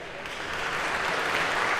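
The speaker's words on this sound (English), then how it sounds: "round of applause for our volunteers" A lecture hall audience at a computer science class gives a dense, continuous round of applause for volunteers coming to the front.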